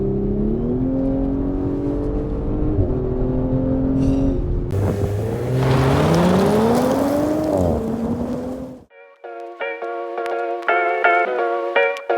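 A 2023 Audi S5 Sportback engine pulls hard through corners, its note rising and falling with the throttle for about nine seconds before cutting to a sharp, higher-pitched whine near the end.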